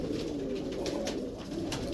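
A female Faisalabadi pigeon with black feet coos softly and repeatedly while being taken out of its coop, the low murmuring calls running continuously at moderate distance.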